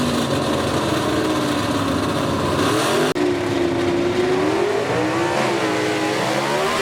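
Drag-racing gasser cars at Lassiter Mountain Dragway roar loudly and steadily, with the engine pitch climbing after a brief break as they rev up for the line. No voices are heard over them.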